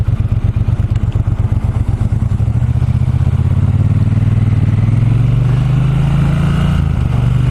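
A Triumph T120 Bonneville motorcycle engine rumbles steadily on a test ride, close and loud, its low throb rising slightly in pitch as it accelerates.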